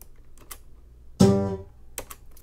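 Acoustic guitar played in a choppy, muted way for sound design: one sudden loud strummed hit that rings briefly and decays, with faint scratchy taps before and after.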